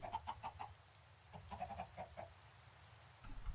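Chickens standing on purpur blocks in the Minecraft modpack FTB Continuum give quick runs of soft clucks, one burst near the start and another a little later, under steady low game ambience.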